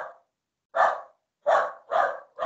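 A dog barks four times at a steady pace, fairly close and loud, with short gaps between the barks and no talking over them.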